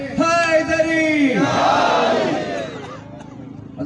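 Crowd at a political demonstration chanting religious slogans in unison, a loud massed roar of voices swelling and fading over a few seconds with a leader's call audible at the start.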